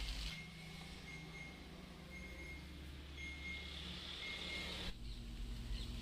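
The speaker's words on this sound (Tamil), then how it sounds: "ஓகே, அலாரம் சவுண்டு கேட்குது." A double-door refrigerator's door-open alarm beeps faintly in a steady repeating pattern of short tones over a low hum, stopping abruptly near the end.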